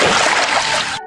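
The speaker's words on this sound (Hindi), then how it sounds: "सीता उदास मन से मटके में पानी भरती है" Water pours steadily into a clay pot, a loud, continuous splashing gush that cuts off abruptly at the end, with no voices.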